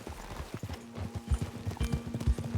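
Horse hooves clip-clop in a steady, uneven rhythm in Red Dead Redemption 2, close and fairly loud, with a low engine-like hum and a brief voice beneath.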